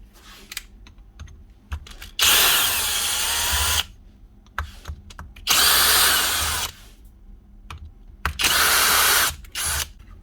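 A customer's broken power tool motor under repair runs up in three separate bursts, each a loud whirring roar of about a second and a half. Quiet clicks and handling noises fill the gaps between bursts.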